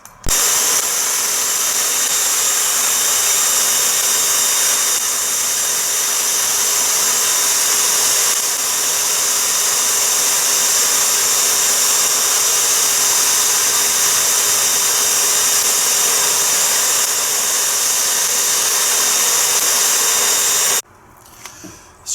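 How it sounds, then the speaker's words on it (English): Shop vac blowing air into a small homemade charcoal forge, a loud, steady whining roar with a high tone that runs unbroken for about twenty seconds before cutting off abruptly. "the little shop vac that is going to drive the air for it"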